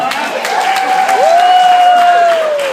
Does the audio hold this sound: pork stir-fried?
no